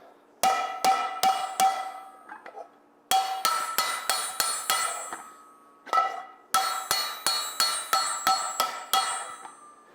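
A carbon steel skillet hammered on an anvil during forging rings out in rapid bursts of sharp metallic blows, several clusters of evenly spaced loud strikes with bright ringing decay between them.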